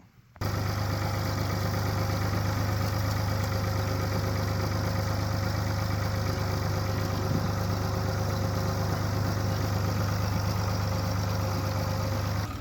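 A tractor engine running steadily while lifting with its front end loader, a constant low droning hum with a rough mechanical rattle, loud and close, no speech.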